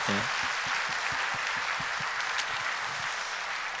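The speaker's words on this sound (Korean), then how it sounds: "한 번 더 격려의 박수 해주십시오." Dense applause from a church congregation after an orchestra performance fills the room, steady clapping throughout with no voices.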